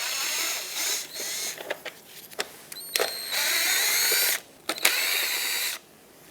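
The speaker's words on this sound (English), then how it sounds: "Phillips head screws, all three of them. Take them out." A screwdriver, likely a power driver, backs out the three Phillips head screws holding the grille emblem on a Mazda 6, with whirring bursts broken by clicks and short pauses, close up, no talking.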